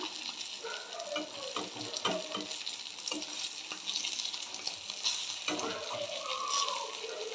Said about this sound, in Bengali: আমি এখন অল্প করে একটুখানি কালো জিরে ফোড়ন দেব। এই তেলটার মধ্যেই দিয়ে দিচ্ছি